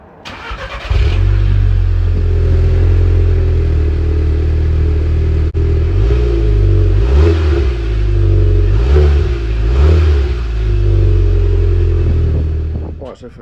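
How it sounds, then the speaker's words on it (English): A stock VW Golf MK6 R engine starts and idles near the microphone, then gives several sharp revs that rise and fall in quick succession before settling, with a voice briefly audible over it. "I'll give you some sound clips of the car just as a standard car"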